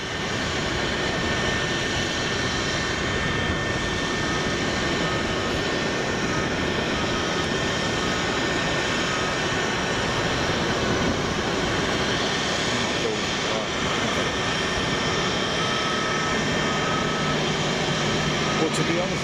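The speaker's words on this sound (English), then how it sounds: "is that a DHL A300 over the top there? Oh, it's ABX." An ABX Airbus A300 jet passes overhead at Boeing Field, a continuous loud engine roar that fills the whole stretch while people talk.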